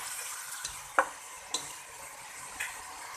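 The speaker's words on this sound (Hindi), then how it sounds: "हमारी ये चिकन फ्राई हो रही है।" Chicken frying in a pan gives a low, steady sizzle, with a few faint clicks of a utensil against the pan.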